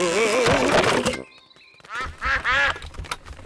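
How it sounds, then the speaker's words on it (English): Cartoon ducks quack in a loud, busy burst, then a short lull, then more quacking in several animated calls from a children's pig cartoon scene. "The ducks are running through Daddy's paint."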